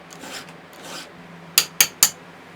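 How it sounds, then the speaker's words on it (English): A hand file rasps across chainsaw chain teeth during sharpening: soft rubbing strokes at first, then three sharp, close scraping strokes in a quick, even rhythm, with no talking. "right now it's filing just fine. This file's still cutting great, actually."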